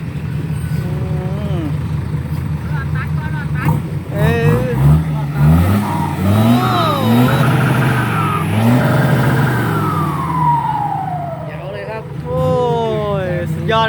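A procession of decorated dump trucks rolls toward a temple, their engines rumbling and revving loudly nearby, with tonal horn-like sounds rising and falling and voices talking over the noise.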